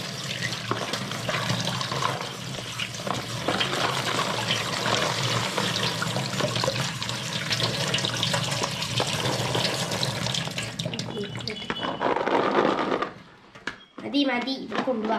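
Tap water runs steadily and splashes while unripe mangoes are washed at a home kitchen tap, a continuous close rush that stops abruptly near the end before a brief trickle returns.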